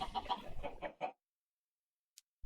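Chickens in the game Minecraft cluck in a quick run of loud, close calls that stop abruptly, followed by silence and a couple of faint clicks.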